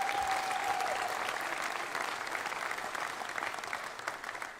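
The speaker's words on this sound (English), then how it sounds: "How about a round of applause for Gary?" Sustained audience applause at a Maryland event honoring former coach Gary Williams, a dense, steady wash of clapping that stays loud throughout before thinning slightly toward the end.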